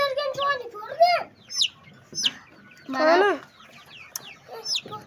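Chickens and young chicks on a farm cluck and cheep in short bursts, close by, interleaved with a child's and adults' voices talking.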